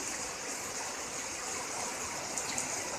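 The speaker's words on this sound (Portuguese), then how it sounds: "Tá vazando água." Water flows from a spring in the ground at a rural plot, giving a soft, continuous hiss and gurgle like a small stream, faint and steady throughout with no voices.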